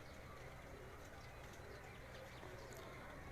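Pigeons coo in a loft, a faint steady murmur blended into a noisy background with low rumble and scattered light chirps, no single call standing out.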